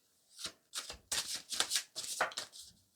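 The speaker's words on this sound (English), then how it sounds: "Alright, we're going to cut the deck." A deck of tarot cards being cut and riffled by hand, a series of close, crisp papery flutters and snaps in quick bursts with short pauses between, alone without talk.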